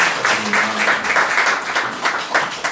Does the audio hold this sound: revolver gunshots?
no